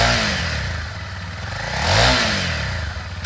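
A 2016 Honda CRF250L dual sport motorcycle engine runs close by, a steady single-cylinder thrum that briefly swells with a rev before settling back, no talk.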